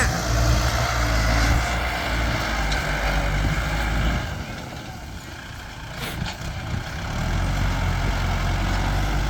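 A Kubota L5018 tractor runs steadily while pushing soil on a cold December day, its engine a continuous low rumble that eases off slightly in the middle and then builds back to full strength.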